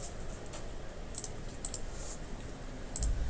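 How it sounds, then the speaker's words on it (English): Sparse keyboard typing: a handful of slow, deliberate key taps at uneven intervals, quiet and close, with no talking. "I know I'm typing extra slow just to create that like anticipation"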